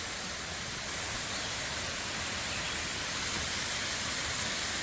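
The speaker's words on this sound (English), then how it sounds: "Look at these waterfalls." Roadside waterfalls on the way up to Mount Magazine give a continuous, dense rushing hiss of falling water that holds steady and close throughout.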